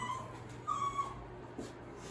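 Dogs in shelter kennels give faint, distant whimpers and a soft yip over a low, steady room hum.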